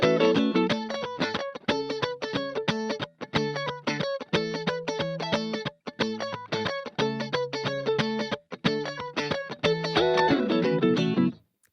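Electric guitar riff, tight rhythmic stabs and repeated staccato phrases in quick bursts with brief gaps, close and clear, ending in a rising slide.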